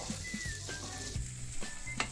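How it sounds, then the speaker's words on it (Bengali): Fish roe frying with vegetables in a pan, a soft continuous sizzle broken by irregular low knocks and scrapes of stirring, close and fairly quiet. "এই সময় মাছের ডিমটা ভাজা হতে থাকবে"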